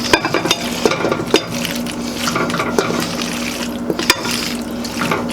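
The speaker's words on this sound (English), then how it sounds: "Alright, so I'm gonna pour this into our pan." Leftover macaroni and cheese is poured and scraped into a pan, giving close, wet, sticky slops and soft clatters in an irregular run of bursts.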